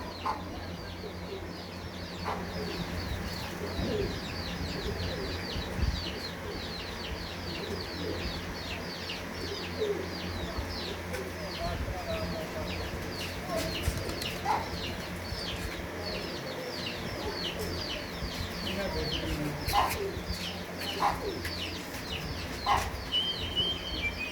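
White Diwan Sahib pigeons cooing in a loft, soft repeated coos layered over a busy, steady background with occasional sharper calls from other birds.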